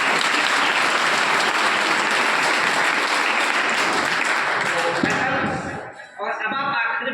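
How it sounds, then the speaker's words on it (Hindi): A hall of students gives a long round of applause, dense and steady, then the clapping thins out and tapers off as a voice begins speaking near the end. "मेरे प्यारे बच्चे अपने लिए स्वयं ही बहुत बड़े तालियां बजाएं"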